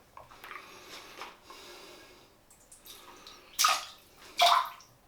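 A badger-hair shaving brush, soaked in water, is shaken out, giving two short wet flicking bursts of spray after a stretch of soft dripping and handling sounds.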